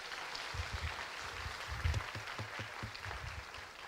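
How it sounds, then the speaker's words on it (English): Audience applause after a dance performance at an international health conference: a steady, faint wash of clapping from a distant crowd that holds at an even level throughout. "Give a huge round of applause for them."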